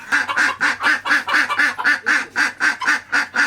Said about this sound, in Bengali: এই যে হাঁস দুটো বাবা এনেছে, একদম দারুণ হাঁস